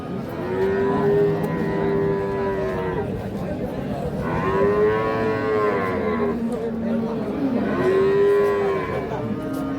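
Dairy cows and calves, including Holstein Friesian cows, moo at the Ambari cattle market, giving three long, loud, close calls at an even pace over a steady crowd murmur.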